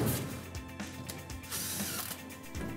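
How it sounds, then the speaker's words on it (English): A Malco hole cutter ratchets through sheet-metal ductwork to open an 8-inch hole, giving a steady run of close, loud metallic clicking and grinding with no voices. "you can use a Malco hole cutter like we're using here"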